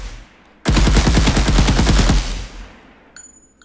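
Rapid automatic gunfire in an Unreal Engine third-person shooter game, a loud close burst of evenly spaced shots lasting about two seconds, then a fading tail with no talking.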